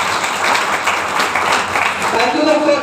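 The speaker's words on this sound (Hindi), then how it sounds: "जोरदार तालियां होना चाहिए।" An audience at a business plan presentation claps loudly and continuously, a dense sustained applause with a voice speaking over it throughout.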